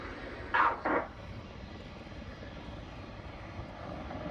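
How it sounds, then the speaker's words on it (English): An Apache helicopter accelerating during a flying display at the Farnborough Airshow 2016 makes a faint, distant, steady engine drone, with a couple of brief, louder knocks near the start. "are now accelerating to display the Apache's full range of manoeuvrability"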